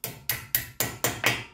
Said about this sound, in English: You're just gonna knock your pin.